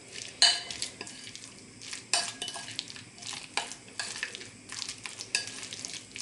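A filling of garlic, cheese, mayonnaise and dill for stuffed chicken breast is stirred in a bowl, giving soft, close, wet scraping strokes in uneven bursts with no talk.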